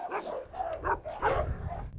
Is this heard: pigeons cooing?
no